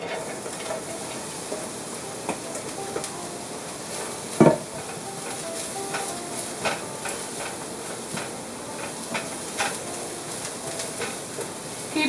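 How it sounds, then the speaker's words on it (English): Cabbage and carrots sizzle steadily in hot oil, with occasional scraping and clinks of a utensil stir frying the pan. "Keep on continuously stir frying it."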